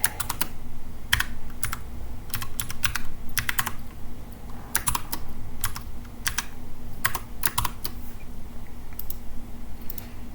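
Typing on a computer keyboard while entering commands in the Qutebrowser web browser, clusters of crisp key clicks in short irregular bursts with brief pauses, close up over a low steady background hum, no talking.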